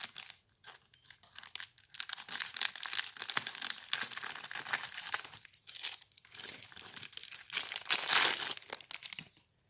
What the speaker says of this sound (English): Let me get it out of the bag.